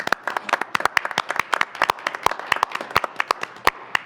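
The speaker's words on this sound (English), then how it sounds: "Crowd goes wild" Audience clapping for two police officers at a Police Merit Commission meeting, steady applause of many hands with sharp irregular claps, fairly close, with no voices over it.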